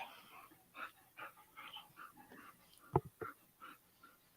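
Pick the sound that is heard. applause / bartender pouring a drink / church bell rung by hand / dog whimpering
dog whimpering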